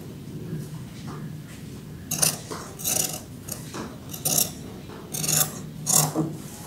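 Scissors cutting through excess dress fabric in close-up, with a rhythmic series of crisp rasping snips roughly every second over a quiet room.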